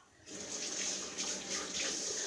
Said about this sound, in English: let me get the onion water off my fingers.